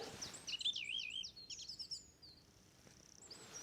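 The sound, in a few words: song thrush singing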